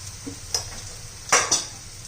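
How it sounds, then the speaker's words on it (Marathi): Spices being stirred into keema frying in a pan, with a few soft scraping strokes and two brief louder clinks of the spoon against the pan over a low, steady sizzle. "सर्व कसं व्यवस्थित मिक्स करून घेऊ"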